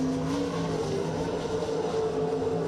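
A race car circles the Maryborough Speedway track, its engine a steady loud drone with a continuous tonal hum throughout, heard alone without talk.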